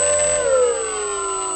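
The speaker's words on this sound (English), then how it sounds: "I'll go ahead and I'll fire up the prop on the airplane" Propeller motor of an RC airplane running at throttle, a steady close harmonic whine that dips slightly in pitch partway through and then holds level with no voices.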